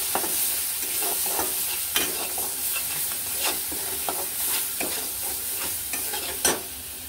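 Turmeric, garam masala and salt being stirred into hot frying oil for a matki curry: soft sizzling under repeated scraping strokes of a spoon against the pan, with a few sharper knocks, close and continuous.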